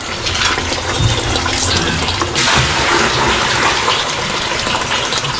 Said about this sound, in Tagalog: Kaya dito tayo kukuha ng tubig para ilagay natin doon para para mapuno na agad.